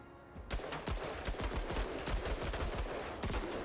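Gunfire volley in the video game Menace, a rapid run of sharp gunshots crackling one after another like a fusillade, fairly loud and unbroken, with no talk over it.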